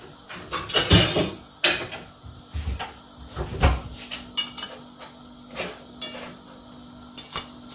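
Cooked roti lifted out of a metal pan with a utensil, giving a string of sharp clanks, scrapes and knocks of metal on metal at uneven intervals, close and clear, no talking.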